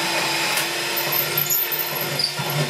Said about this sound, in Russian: еще дрель надо в другую сторону